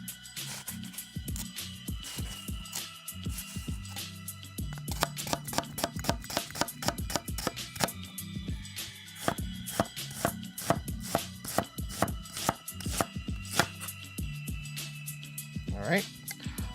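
An onion is chopped rapidly on a cutting board, with dense runs of crisp knife strikes repeating close and loud over a steady kitchen background, while a person talks through it.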